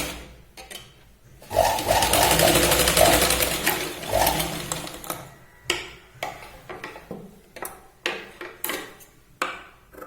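Sewing machine stitching the front part of a cross-cut boat-neck blouse, with a sustained whirring run of about three seconds followed by short start-stop bursts and clicks.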